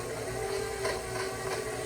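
A stand mixer runs on its lowest speed, blending vanilla buttercream in a steady, even mechanical whir with a faint hum and soft rhythmic churning throughout.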